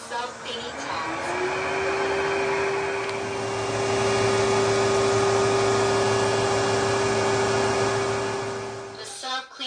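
A robot vacuum mop, the Smartmi A1, self-cleaning at its dock gives a loud, steady motor whine with a constant tonal hum, ramping up at the start and cutting off near the end.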